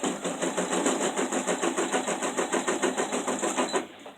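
An embroidery machine stitches an Easter runner in the hoop, a close, rapid rhythmic whirring chatter of needle strokes at a steady pace that stops abruptly just before the end.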